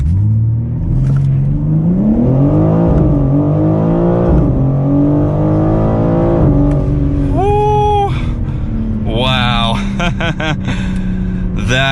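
A 2023 BMW M4 CSL makes a launch-control start and accelerates hard. The engine roars loudly and close, its pitch climbing steeply through each gear, with sharp shifts between rising revs.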